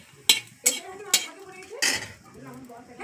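Dried chillies and panch phoron are stirred in a pan with a metal utensil, producing four sharp clanks and scrapes against the pan at uneven intervals, close and fairly quiet.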